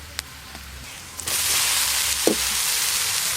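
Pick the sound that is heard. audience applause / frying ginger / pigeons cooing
frying ginger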